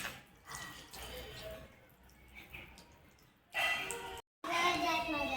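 A small child washes their face under a running tap, with a steady hiss of water and splashes as an adult talks nearby.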